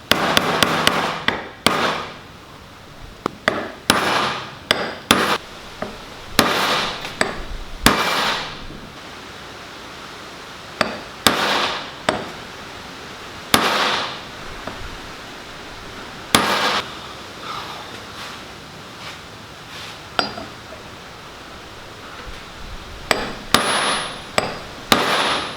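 Repeated sharp metallic hammer strikes drive a socket against the outer race of a wheel bearing on a KX500 dirt bike wheel, coming in irregular bursts of blows with short pauses between them, loud and close with no talking.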